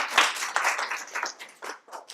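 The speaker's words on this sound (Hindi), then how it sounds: "तालियां होनी चाहिए इसको मैम के लिए" Brief scattered clapping for a teacher during an acupressure class. A handful of people clap unevenly for about two seconds at moderate, close volume.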